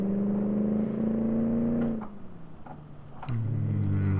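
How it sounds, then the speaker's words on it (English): Car engine in BeamNG.drive holding a steady high rev, easing off into a lower idle for a moment, then climbing again, loud and close with no voices. "You can hear the engine sounds this time, hopefully."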